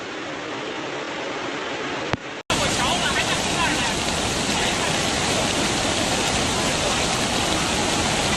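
Heavy rain pours down during a flood in Longnan, Kang County, China, a dense, loud, unbroken roar that drops out for a moment and then comes back at full strength.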